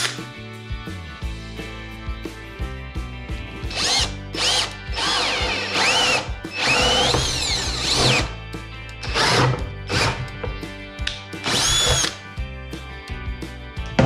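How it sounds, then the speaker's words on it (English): A power drill bores out arcs in a wooden stair skirt, with repeated whining bursts of drilling separated by short pauses and clicking handling sounds. The drilling is close and loud, and no one speaks. "let's drill out each arc."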